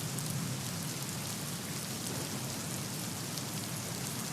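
Heavy rain pours down steadily in Wardha district, a dense, even hiss of downpour with no voices, holding a constant level from start to finish.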